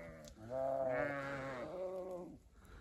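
Sheep and lambs on a farm bleat in overlapping calls, one long wavering bleat rising over others, close and fairly loud for nearly three seconds with no talking.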